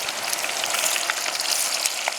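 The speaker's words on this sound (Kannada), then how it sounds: "ನಾವೀಗ ಮಾಡೋಣ ಗೋಬಿ ಮಂಜೂರಿ ಡೀಪ್ ಫ್ರೈ" Cauliflower for gobi manchurian deep-frying in hot oil, a dense, continuous crackling sizzle with fine popping bubbles, close and steady, no voices.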